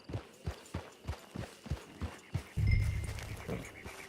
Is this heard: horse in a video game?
yes